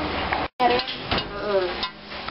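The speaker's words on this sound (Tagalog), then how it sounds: "pinipirito na po ng asawa ko yung hotdog na wala na namang kinalaman sa pansit palabok" A hotdog fries in a pan for pancit palabok, giving a steady close sizzle with light scraping and stirring clatter, with a brief dropout early on.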